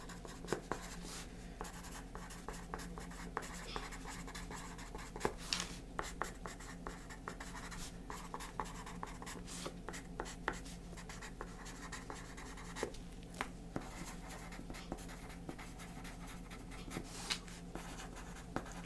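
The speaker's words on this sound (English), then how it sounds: "Let me just write this down." Pen writing notes on paper, with a continuous soft, close scratching that carries steady small strokes and taps for the whole stretch, quiet and intimate, with no talk.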